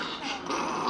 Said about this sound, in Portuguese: Que cachorro maluco!